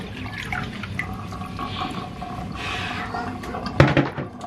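Water drains from a basin after a synthetic wig is washed, a close gurgling flow that swells into a louder splash near the end, with no talking.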